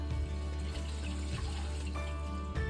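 Water runs steadily over a curing ham for a few seconds, a close, continuous pouring and splashing sound with no voices.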